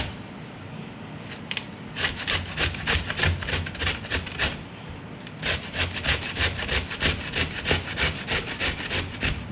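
Sweet potatoes grated by hand against a grater, rhythmic rasping strokes in steady rapid succession, close and fairly loud, with a brief pause near the start.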